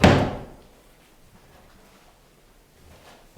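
A door or shutter in an old house bangs shut with one loud, close thud at the start, then quiet room tone and a faint knock at the end.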